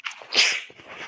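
A single sharp human sneeze, close and brief, bursts out after a short intake of breath in an otherwise quiet room.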